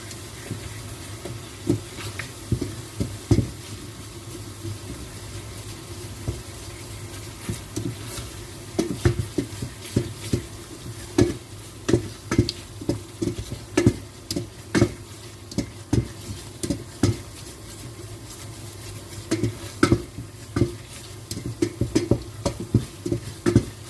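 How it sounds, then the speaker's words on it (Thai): Curry paste being stir-fried with coconut milk in a pan for chicken massaman curry: a steady low sizzle broken by frequent scraping, tapping stirs, close and fairly loud, with no talk. "ผัดกับผัดพริกแกงกับน้ำกะทิของเราค่ะ ให้แตกมันนะคะ"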